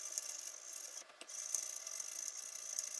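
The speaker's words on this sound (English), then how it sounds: "Proper clean with the toothbrush." A toothbrush scrubs a faulty Xbox One S circuit board wet with isopropyl alcohol, giving a steady close rasping, bristly rub with short repeated strokes and a brief pause partway through.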